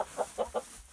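A sick hen, likely with a viral illness, clucks three short times in quick succession, close by and fairly soft, with a quiet background.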